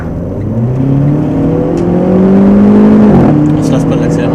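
A Renault Clio RS 18 accelerating hard, its engine note climbing steadily in pitch, then dropping briefly at a gear change before rising again, loud and close from inside the car.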